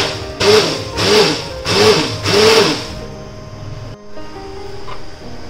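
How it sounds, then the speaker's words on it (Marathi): A kitchen blender whirs in four loud surges blending buttermilk with mint powder, salt and sugar-free tablets, each burst pulsing with a motor whine, then a quieter steady hum as it winds down. "त्यानंतर त्याला ब्लेंडरने छान ब्लेंड करून घेतले"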